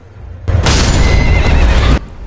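A horse in the Elden Ring video game gives one loud, close whinny lasting about a second and a half, abrupt start and stop over faint background noise.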